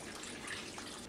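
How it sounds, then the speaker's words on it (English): White wine poured over clams in a pot for steamed clams with sweet basil: a faint, steady splashing pour of liquid, brief and continuous, with no voices. "pour the white wine over the clams"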